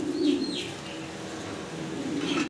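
Fancy pigeons coo in low, soft, rolling phrases nearby, with a couple of faint chirps above, in a quiet loft setting.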